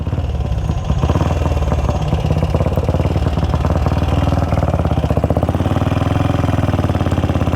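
A Velocette Venom 500cc single-cylinder motorcycle running on the road, a loud, close, steady thumping engine note that holds even throughout with a slight rise in pitch toward the end.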